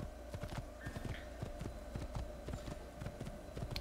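A white horse gallops in the Assassin's Creed video game, its rapid, steady clip-clop hoofbeats running continuously and close, with no talk over them.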